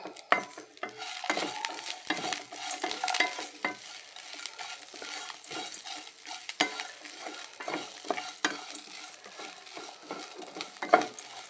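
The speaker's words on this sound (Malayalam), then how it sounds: "രണ്ട് ചെറിയ ഉള്ളി ഒരു ഇഞ്ചി കഷ്ണം ഇതൊക്കെ നമുക്ക് ഇട്ടിട്ട് ഇതിലിട്ടിട്ട് ഒന്നിൽ വാട്ടിയെടുക്കാം" Two small onions and a piece of ginger sauté in oil in a pan, with a continuous close sizzle and frequent scraping stirs throughout.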